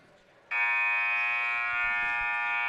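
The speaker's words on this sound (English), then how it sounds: "And you hear the buzzer." A loud, steady electronic buzzer at a girls' basketball game suddenly sounds and holds continuously, a harsh tone droning on without a break.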